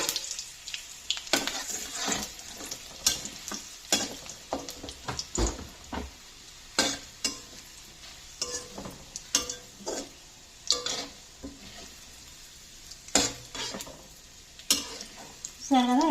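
Urad dal and dried red chillies fry in a pan, with a soft steady sizzle broken by frequent sharp clicks and scrapes of a spoon stirring against the metal.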